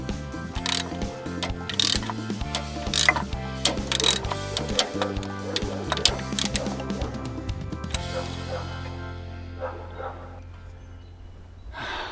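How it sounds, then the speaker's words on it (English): A hand ratchet snugs the bottom bolt of a car starter, giving steady, close clicking strokes with metallic clinks, slowing and fading toward the end. "Now we need to go back under and just finish snugging that bottom bolt"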